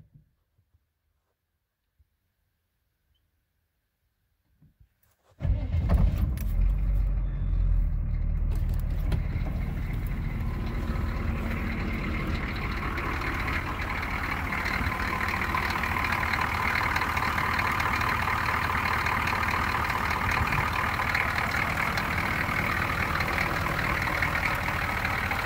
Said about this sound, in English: start it up so we can hear the old clackety indirect injected diesel